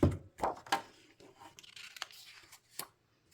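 Scissors snip through purple paper for a scrapbook layout, a few quick, close cuts and rustles spaced irregularly, faint and with no talking.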